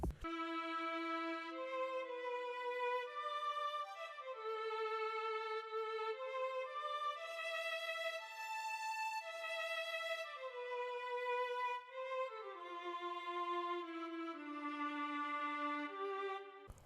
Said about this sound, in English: violin was used in this song,